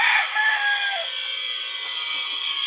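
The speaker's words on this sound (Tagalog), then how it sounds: "Marami po rin mga manok yan." A rooster crows once nearby among chickens in a Marinduque yard, a drawn-out call that fades into faint background clucking and ambient noise.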